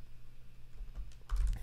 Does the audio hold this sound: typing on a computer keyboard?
yes